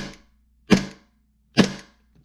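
Airsoft pistol fired through a new amplifier: two sharp, loud cracks about a second apart, each trailing off quickly, with nothing else around them.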